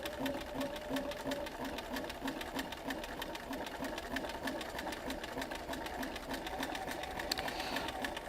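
Sewing machine stitching parallel quilting lines with a parallel line foot, a steady fast needle rhythm running continuously and close throughout, with no talk.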